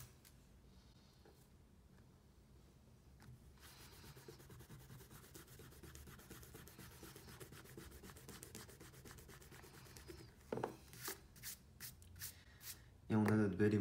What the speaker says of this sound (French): on peut déjà gommer nos traits de construction au crayon